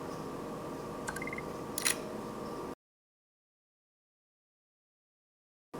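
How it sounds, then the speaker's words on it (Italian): Ray-Ban Stories smart glasses give a soft, brief camera shutter click near the middle of the capture, close and quiet over steady room hiss, then the sound cuts out to silence. "Fa proprio il rumorino dello scatto, quindi è molto carino."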